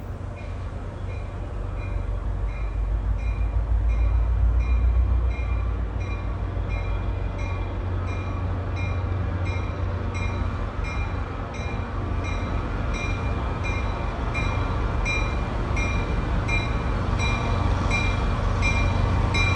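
A Metro North GP40FH-2 diesel locomotive leads a train past at close range, a loud continuous engine drone and wheel rumble with faint high squeals, steady throughout.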